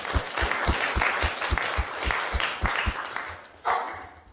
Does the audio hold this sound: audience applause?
yes